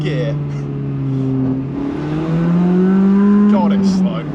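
Honda Jazz fitted with a Lamborghini exhaust pulling hard in first gear, a loud, close engine note rising steadily in pitch as it accelerates, with a brief dip and shift near the end.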